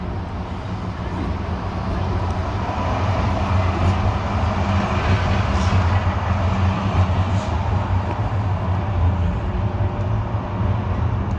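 A tram rumbles by close on a Sheffield city centre street, a steady low mechanical drone with faint metallic squeals, building slightly and holding throughout.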